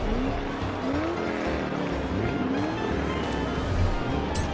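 A tuned Nissan Skyline GT-R R33 V-Spec launches off the start line in a Forza Horizon 4 race, its engine revving and rising through the gears with squealing tires, loud and continuous.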